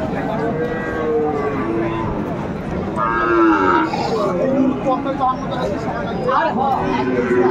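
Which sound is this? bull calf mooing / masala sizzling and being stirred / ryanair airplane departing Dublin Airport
bull calf mooing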